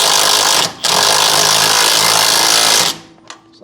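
Power tool tightening a bolt, a loud rapid hammering burst that briefly pauses, resumes for about two seconds, then stops, followed by faint clicks.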